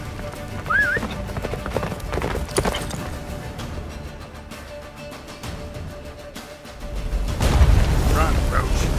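Roach, the horse in The Witcher 3, gallops in rhythmic hoofbeats amid in-game battle noise, with a whinny, heavy booms and dialogue voices layered over the running hooves.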